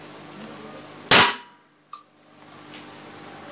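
A Canik L120 pistol fires a single cartridge, one sharp, loud close report followed by a quick fading ring and a faint metallic click of the ejected case.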